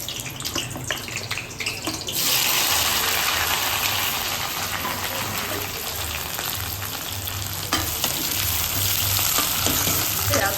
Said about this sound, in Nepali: यहाँ तेल तातिसक्यो, प्याज हाल्छु, चिकन बनाउन लाग्यो